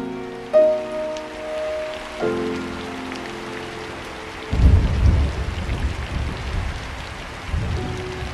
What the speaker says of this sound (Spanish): Afuera, esa noche se había desatado furiosa tormenta